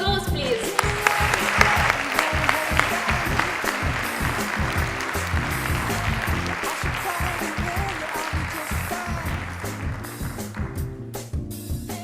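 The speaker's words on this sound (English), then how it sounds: "Can we have a round of applause, please?" An audience round of applause fills the room with steady, dense clapping that holds at a constant level throughout before easing slightly at the end.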